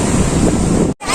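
Big ocean waves crash at Puri beach in a loud, close, rushing roar, heavily buffeted by wind on the microphone, cut off briefly near the end.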